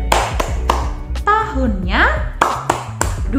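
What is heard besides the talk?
rhythmic hand clapping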